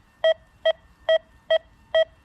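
Metal detector signalling over a quarter buried a year beside iron, five short, even, clear beeps about half a second apart, alone over faint background noise.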